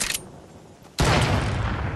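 Gunfire bursts out in a Fortnite match: a brief shot at the start, a short lull, then a loud sustained volley of rapid shots running to the end.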